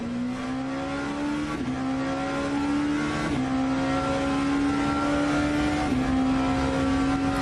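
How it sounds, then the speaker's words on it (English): Race car engine in a virtual endurance race at Bahrain, a continuous loud high-revving whine rising through the gears with brief drops at each gear change. "Having a listen to the engine noises and all the various inputs that are going in, gear changing, brakes."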